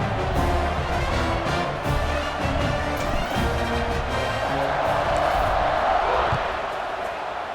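A packed stadium crowd roars in College Football 26, a dense constant swell of cheering that stays loud throughout, with game commentary talking over it.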